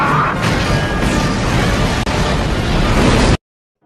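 Car bomb explosion in a film, a loud sustained roaring blast of broadband rumble lasting about three seconds, then cutting abruptly to silence.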